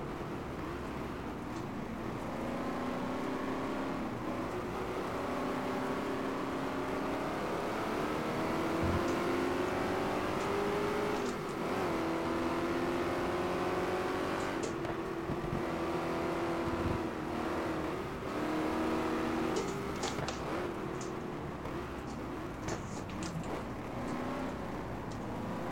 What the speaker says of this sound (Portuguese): Vou correr de Ford Mustang